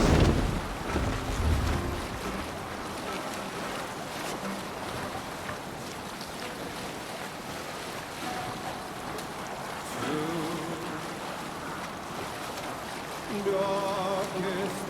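A Viking longship sails out to sea in Assassin's Creed Valhalla: a broad wash of wind and waves with creaking hull and rigging, steady and moderately loud throughout, with brief tonal swells near the end.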